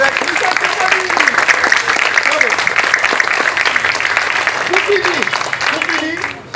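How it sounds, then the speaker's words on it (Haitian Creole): A festival audience applauds two speakers, producing sustained, dense clapping that holds steady for several seconds before fading at the very end, with a voice speaking over the applause. "applaudis deux intervenants pour nous, Marc Xavier avec Michel Saint-Félix"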